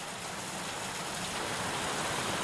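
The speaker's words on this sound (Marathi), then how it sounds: "सिंधुदुर्गसह राज्याच्या विविध भागात पाऊस कोसळतोय" Heavy monsoon rain pouring steadily across the Sindhudurg region in Maharashtra's Konkan, a dense, continuous hiss of falling water with no voices, evenly loud throughout.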